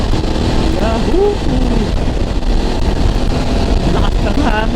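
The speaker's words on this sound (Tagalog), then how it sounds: "Lakas ng hangin." Loud, rushing wind buffets the microphone continuously while a BMW F800 GS motorcycle engine roars underneath on an expressway, with a voice speaking briefly over the noise.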